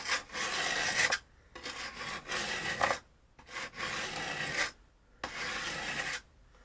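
A wood chisel edge is honed at the corner on a sharpening stone, heard as four steady rasping strokes separated by short pauses, close and alone.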